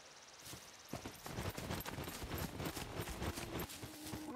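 A deer or boar moves close by in the survival game SCUM, heard as a run of rapid, irregular hoof-like clopping thuds that grow busier after the first second, with no talking.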